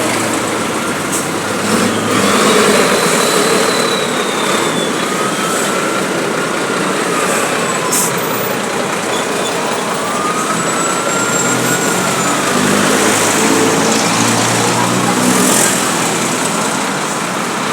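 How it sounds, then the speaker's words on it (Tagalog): Heavy road traffic crawling along the NLEX expressway near Valenzuela City, a steady loud roar of engines and tires filling the whole stretch, with a truck's passing rumble and faint higher whines layered over it, no talk. "Sobrang traffic dito."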